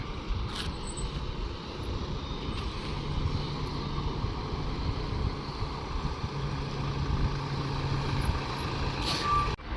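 A lorry turns around on a roadside, its reversing alarm beeping in a regular repeated pattern over a steady low diesel idle, with a short air-brake hiss near the end.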